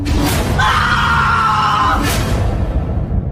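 A man screams in fright as he opens a fridge, one loud, sustained, strained cry that rises and then fades out, close and alone.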